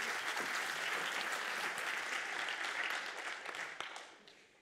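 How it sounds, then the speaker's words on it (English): A university audience at a Three Minute Thesis competition at Massey University applauds a presenter, with full, continuous clapping that holds strong and then thins and fades toward the end. "A round of applause for Rebecca."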